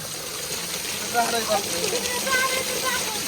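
Water splashes and gushes steadily around a small child at bath time, a continuous wet wash with brief louder spurts, close by, while voices talk over it.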